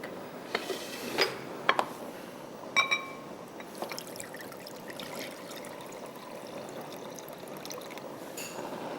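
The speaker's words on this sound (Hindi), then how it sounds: "चलें, शामिल कर देते हैं इसमें राइस जो कि हमने भिगो के रख दिए हैं।" Soaked rice is tipped into a cooking pot for khichri, making a few short splashy pours and light clinks up close before settling into a quiet, steady background.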